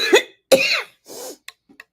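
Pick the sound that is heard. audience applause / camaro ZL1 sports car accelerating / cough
cough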